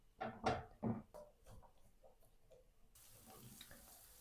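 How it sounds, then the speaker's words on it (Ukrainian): Chopped onion hits hot sunflower oil in a frying pan, a few loud kitchen knocks and clatters giving way to a steady, soft sizzle that runs through the second half. "На сковорідку додаю соняшникову олію. І спочатку додаю цибульку і обсмажу її до напівпрозорості."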